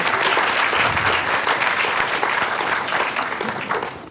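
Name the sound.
audience applause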